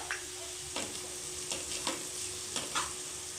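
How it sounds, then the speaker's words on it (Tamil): Onions with chili powder stirred in a pan for stingray fish curry: a steady sizzle under repeated scraping strokes, about five distinct stirs close by. "மிளகாத்தூள் போட்டு ஒரு பெரட்டு பெரட்டிட்டு"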